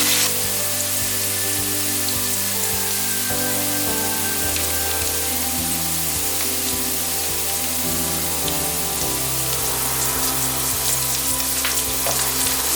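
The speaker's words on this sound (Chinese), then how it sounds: "油热了之后，把沥干水分的马铃薯放进来，" Drained potato slices fry slowly in hot oil in a pan, giving a steady, dense sizzle and crackle that carries on unbroken, close and loud, with a few faint knocks and no voices.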